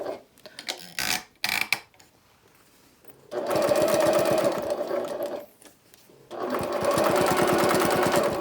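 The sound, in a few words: sewing machine basting stitch along zipper edge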